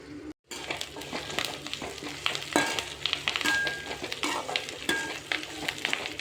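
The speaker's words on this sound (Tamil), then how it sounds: "வெங்காயம் நல்லா வதங்கணும். நல்லா கோல்டன் கலரில் ஆகிற வரைக்கும் நல்லா வதக்கிடலாம்." Shallots, onions and plenty of curry leaves sauté in a pan for a quail curry, a steady close sizzle under frequent scraping stirs, busy and fairly loud, with no talking after a brief silent gap at the start.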